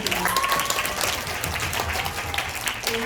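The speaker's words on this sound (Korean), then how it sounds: "우리 모두 박수로 하나님께 감사드립니다" A church congregation applauds, a steady wash of clapping heard somewhat distant and moderately quiet, with faint voices mixed in underneath.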